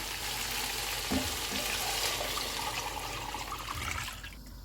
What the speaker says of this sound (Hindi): अब हम इसमें यखनी डाल देते हैं